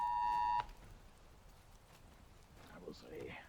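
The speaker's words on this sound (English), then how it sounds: "phone's going off" A phone sounds an emergency Amber Alert tone, one steady, loud electronic beep held for about half a second before cutting off, followed by quiet background and faint activity.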